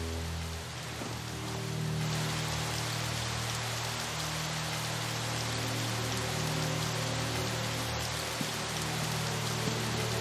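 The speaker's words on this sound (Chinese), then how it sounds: "雨太大了，还是回屋吧" Heavy rain pours down steadily in a dense, continuous hiss of drops on surfaces, loud and unbroken for the whole stretch.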